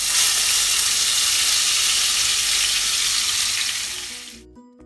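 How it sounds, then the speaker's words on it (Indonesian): A ground spice paste is sautéed in three to four spoonfuls of frying oil, crackling and sizzling loudly and steadily up close before fading out at the end. "Tumis bumbu yang sudah dihaluskan."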